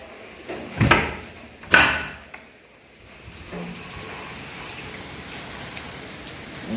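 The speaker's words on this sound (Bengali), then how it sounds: "আর দেখো সমানে বৃষ্টি পড়েই যাচ্ছে বন্ধুরা" Heavy rain falls outside as a steady, soft wash of hiss, interrupted early by two sharp, loud knocks close by.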